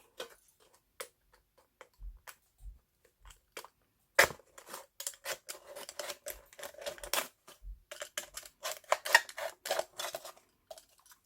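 Scissors cut around the end of an upcycled aluminium soda can, giving quick, close metallic snips and crinkles that start sparse and then come fast and irregular.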